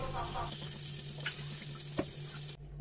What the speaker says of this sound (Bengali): আর এদিকে আমার মা ফ্রাইড রাইস বানানোর জন্য ভেজিটেবলসগুলো অলরেডি ভাজতে শুরু করে দিয়েছে